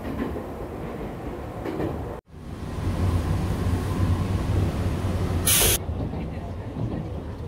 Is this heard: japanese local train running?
yes